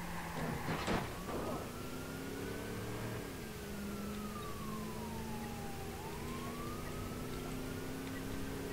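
A police car siren in the Watch Dogs video game wails in a slow rising and falling sweep during a chase, steady and fairly loud over continuous engine and road noise.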